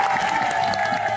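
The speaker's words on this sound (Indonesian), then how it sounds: "Boleh kita berikan tepuk tangan ya" Studio audience claps on an Indonesian TV cooking competition, a brief burst of dense applause under a sustained background tone, filling the whole moment without pause.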